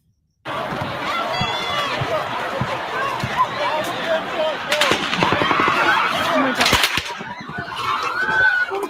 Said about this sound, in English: it just sounded like machine guns, literally hundreds of rounds of machine guns